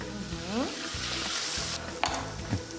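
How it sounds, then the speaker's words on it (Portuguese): Calabresa sausage fries in a pan with a close, crackling sizzle, broken by scraping stirs and a couple of sharp clinks of the utensil against the pan, with no voices. "nossa calabresa já está bem fritinha"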